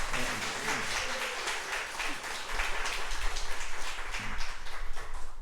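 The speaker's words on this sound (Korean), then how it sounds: "우리 뜨거운 한번 신혼부에 박수 한번 해주시기 바랍니다" A church congregation claps for newlyweds during a Sunday worship service, a steady, dense wash of applause that swells slightly in the second half and continues throughout.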